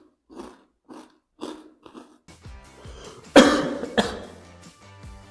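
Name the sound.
cough while eating spicy chips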